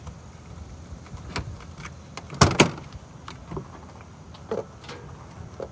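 A few sharp clunks, with one pair of loud thuds near the middle, like a truck door being pulled open and slammed shut, against a quiet background.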